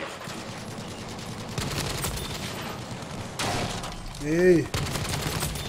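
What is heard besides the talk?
double .50 cal machine gun firing on LVT, video game Battlefield V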